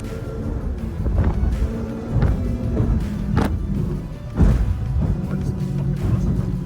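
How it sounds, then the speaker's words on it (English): An MTI 440X outboard speedboat's engine roars steadily at speed with wind buffeting the microphone, punctuated by a few heavy thumps and splashes as the hull leaves and slaps the water. "I'm going to replay it so you can actually hear the boat leave the water"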